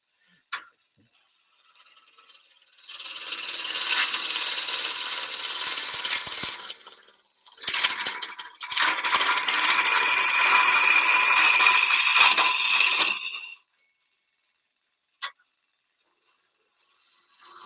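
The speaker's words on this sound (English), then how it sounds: "can certainly get some wood off, can't you, with a spindle roughing gouge" A spindle roughing gouge cuts wood on a lathe for a natural edge vase, giving two long stretches of loud, close scraping and rasping with a brief pause between, followed by silence and a couple of faint knocks.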